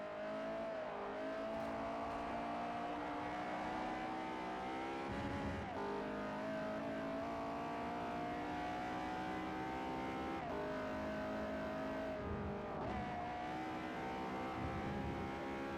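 A race car engine in Forza Motorsport 4 revs steadily at high pitch, rising and dipping with gear shifts, loud and continuous with no talking.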